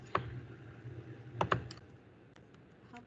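Keystrokes on a computer keyboard while typing code, a few sharp clicks in quick pairs and scattered lighter taps, close and quiet, with no talk.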